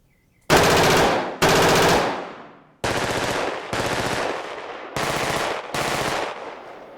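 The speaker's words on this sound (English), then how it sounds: "So if I fire my weapon while moving out of this forest area" Bursts of video game weapon gunfire rattle in six loud, close automatic volleys separated by short gaps, the first bursts trailing off with a fading tail while the player moves out of a forest area.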